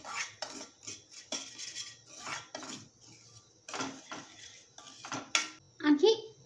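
Semolina and gram flour roasting in a pan for a low-ghee jaggery semolina halwa, with a spoon scraping and clinking against the pan in an irregular rhythm of close strokes, several louder knocks near the end.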